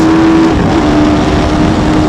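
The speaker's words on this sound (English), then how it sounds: "Climbing through the revs. All the way up to about 11k." Loud, continuous engine roar from a Hayabusa-powered race car climbing through the revs toward about 11,000 rpm, heard up close as a steady dense drone with a rising tone.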